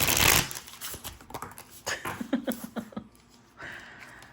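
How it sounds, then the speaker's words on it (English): A deck of playing cards is riffle-shuffled by hand, with a loud burst of rapid card flutter at the start followed by a series of shorter riffles and snaps, close up and with no speech. "Oh, that was a bad shuffle because I'm trying to not mess up the cards."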